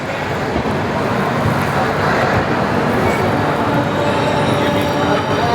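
The Mumbai–Ahmedabad Double Decker Express, train 12931, running near Vadodara Junction: a loud, steady roar of wheels on rail with constant rumbling rattle throughout, heard from on board with no pauses.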